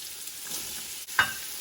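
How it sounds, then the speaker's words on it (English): Onion sizzles in an Instant Pot on the sauté setting while a spoon stirs it, giving a brief soft frying hiss with one sharp scrape near the end. "Let's stir that up a little bit."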